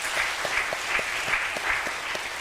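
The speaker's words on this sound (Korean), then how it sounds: "우리 어린 친구의 삶은 박수 한번 합시다." A church congregation applauds a young child during a revival afternoon service, with dense, steady clapping that has a faint rhythmic pulse and no talking.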